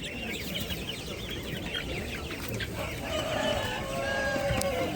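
Hens cluck busily at close range amid a crowded barnyard din at an animal market selling pigeons, rabbits and poultry, with a rooster crowing and faint talk in the background.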